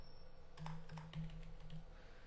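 Soft keystrokes on a computer keyboard, a handful of quiet clicks in a short irregular burst, close but faint against a low room hum.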